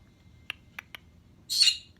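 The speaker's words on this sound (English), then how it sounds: "Baby bird. Baby bird. Baby bird. Baby birdie." A pet baby bird gives three faint, short chirps, then a brief louder squawk, heard close but quiet against a low background hum.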